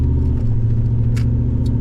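An old 4x4 pickup truck drives along with a steady, loud low engine rumble and road drone heard from inside, with no talking.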